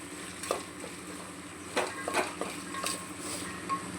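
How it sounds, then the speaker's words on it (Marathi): A mixture for soyabean veg pulao is stirred and cooked in oil, with a soft steady sizzle broken by intermittent spoon scrapes and clinks against the pan, close up with no talk. "त्याला मस्त असं आपण एकजीव करूया. तेलामध्ये चांगलं असं थोडंसं याला शिजवून द्यायचं आपल्याला."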